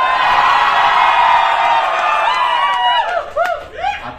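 A college crowd roars in a sustained cheer, with whoops and high shouts breaking out near the end; loud and close, filling the space.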